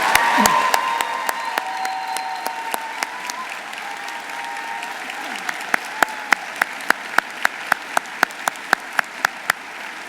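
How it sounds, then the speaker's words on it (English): Audience at a medical school Class of 2023 celebration giving a round of applause, dense clapping that thins into a few scattered, distinct claps near the end, with faint voices early on. "Let's all give them a round of applause."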